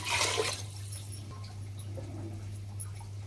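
A brief splash of water poured into a pot of urad dal at the start, followed by quiet bubbling and a low steady hum.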